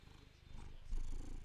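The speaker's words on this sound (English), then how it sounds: "don't purr in the microphone" A cat purrs close to a microphone, a low rumbling vibration that swells louder near the end of a brief moment.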